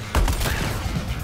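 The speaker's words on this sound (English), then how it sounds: "Covering fire." Gunfire in the video game Suicide Squad: Kill the Justice League, a short loud burst of rapid shots with booming low impacts, close and dense over a noisy game backdrop.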